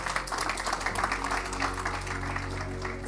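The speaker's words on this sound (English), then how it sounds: "Please give him a warm round of applause." A corporate audience at a sustainability report launch claps together, a steady, full round of applause that fills the room evenly at moderate level, with no talking over it.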